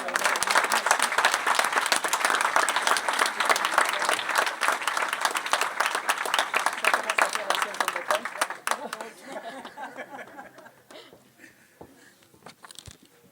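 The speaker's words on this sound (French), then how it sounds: "Vous pouvez l'applaudir." An audience at a town mayor's New Year ceremony applauds warmly with dense, sustained clapping for about nine seconds, then it dies away while people begin talking nearby.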